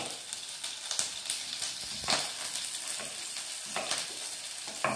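Ginger pieces fry in very hot oil for stuffed brinjal, giving a steady, close sizzle with crackling pops and spits throughout, no voices.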